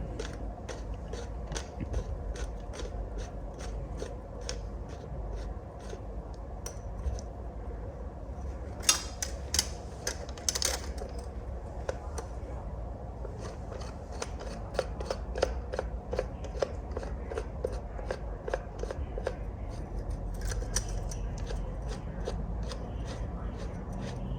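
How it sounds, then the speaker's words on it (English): A new oil filter tightened on a Ducati Monster S2R 1000 motorcycle: a long run of rapid, evenly spaced ratchet clicks, close and crisp, with a few louder clunks and someone talking at times. "now you're going to start to tighten up the oil filter"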